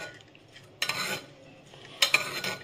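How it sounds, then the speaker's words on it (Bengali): Spiced arhar dal with butter is mixed with a spoon, two short scraping bursts of metal against a pot against a quiet kitchen background. "এবার আমি এটাকে ভালো করে মিশিয়ে নেব।"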